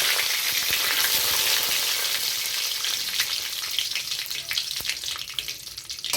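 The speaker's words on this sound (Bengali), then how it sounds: "তেলটা গরম হয়ে গেছে এইবার দেখো তেজপাতা শুকনো লঙ্কা দিয়ে দিলাম" Bay leaves and dried red chillies hit hot oil in a pan, a bright sizzling crackle that starts strong and gradually settles into a thinner frying hiss with a few spits and stirring clicks.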